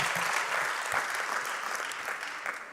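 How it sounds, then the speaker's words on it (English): Audience at a national elections town hall event gives a sustained round of applause, a dense, even clatter of many hands heard alone at moderate level throughout. "And she also deserves a round of applause."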